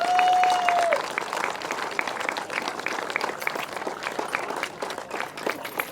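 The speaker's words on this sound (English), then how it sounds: "give the GTSA club and all of its members and all of the people involved a massive round of applause" A crowd applauding at a grasstrack racing meeting, steady scattered clapping heard from a distance in the open air, with a brief whistle-like tone at the start.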